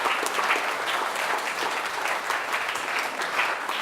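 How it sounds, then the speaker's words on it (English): A loud, dense round of applause from a conference audience after a presentation on multi-operator neutral hosting, continuous clapping holding steady from start to finish. "So a round of applause."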